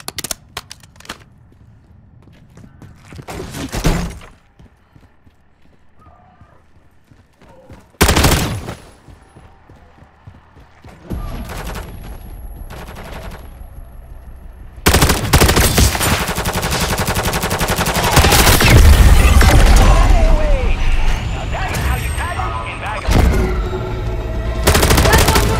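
Gunfire in Call of Duty Modern Warfare III Zombies mode: loud bursts of shots at first, then a sustained stretch of dense, continuous firing and explosions over game sounds, with a few voice lines mixed in.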